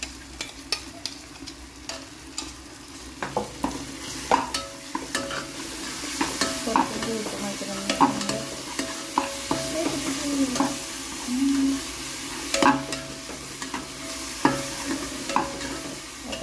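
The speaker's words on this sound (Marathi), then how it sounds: "आलं लसूण कोथिंबीरची पेस्ट टाकूया आपण." Ginger, garlic and coriander paste fries in a pan for a Maharashtrian pavta rice dish, a steady sizzle broken by repeated scraping knocks of a spoon stirring against the pan, close up with no talk.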